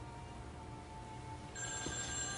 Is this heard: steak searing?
no